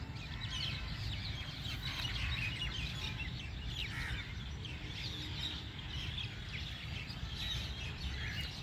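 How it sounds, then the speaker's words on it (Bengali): Many birds chirp in trees near dark water in the afternoon, a dense, continuous chorus of small calls over a steady low background rumble. "প্রচুর পাখি এখানে গাছে আছে, তারা কিচিরমিচির আওয়াজ করছে"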